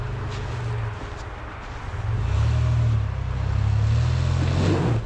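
A first-generation Toyota Tacoma climbs a hill in four-wheel drive without the locker engaged, its engine droning low and then revving louder and holding a strained, steady pull, heard close from inside or beside the truck.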